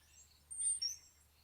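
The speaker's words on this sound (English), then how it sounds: "you can actually hear the birds too" A few short, high bird chirps outdoors, faint and brief against a quiet low background hum, with no one talking.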